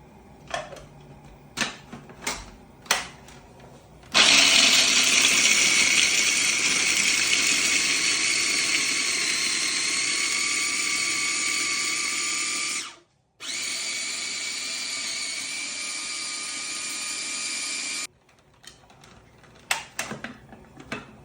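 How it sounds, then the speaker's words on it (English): Walnuts ground in a food processor make a loud, steady motor whir that runs for about nine seconds, stops for a moment and then runs again. Scattered clicks and knocks come before and after. "we're going to grind these walnuts"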